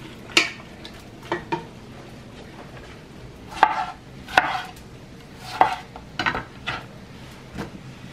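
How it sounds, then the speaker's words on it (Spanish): A knife chops a tomato into large half-moons on a board while a beef stew is prepared, giving about a dozen crisp, separate cuts in an uneven rhythm, close and clear with no talk. "Lo cortamos así grande también en medias lunas."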